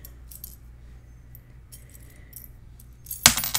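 Small metal charms in a mesh bag give a few faint, scattered tinkles, then a sudden loud, close jangle near the end.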